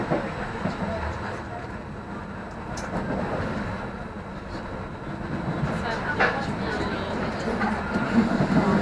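Passenger train rolling into Venezia Mestre station, a steady low rumble of wheels and carriage noise with faint rail clatter throughout, gradually building slightly louder near the end.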